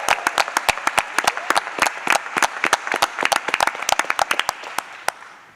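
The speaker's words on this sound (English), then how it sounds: "Let's give her a round of applause." An audience at a school board meeting claps in a brisk burst of applause, sharp individual claps close by that thin out and fade toward the end.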